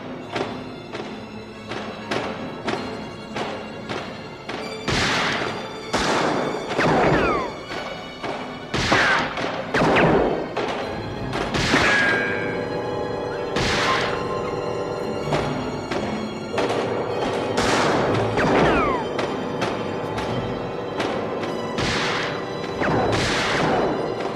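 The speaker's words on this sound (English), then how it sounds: "When the mob surrounds Elliot, the scene erupts with a shotgun slug to the mobster's chest." Gunfire and violent crashes from the Chicago train station shootout in The Untouchables, a shotgun blast among them, as repeated loud bursts and impacts ring out over a dense orchestral score, with brief voices mixed in.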